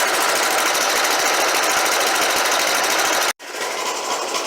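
A lawn mower engine runs steadily after its carburetor screw is backed out about half a turn, a fast even buzzing chatter close by that drops out briefly near the end, then resumes slightly quieter.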